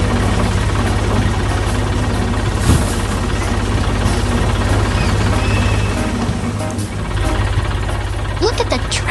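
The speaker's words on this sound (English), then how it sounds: "Look at the tractor go." Tractor engine running steadily while driving on a farm, a continuous low, rumbling drone with knocking vibration throughout, with a voice talking over it and a few higher sounds near the end.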